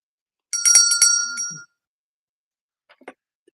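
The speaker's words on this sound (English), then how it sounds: "Can you ring the bell for Wendy's birthday, please?" A bell rung for a birthday gives one bright, ringing burst of about a second that fades out, followed a moment later by a few faint clicks and taps.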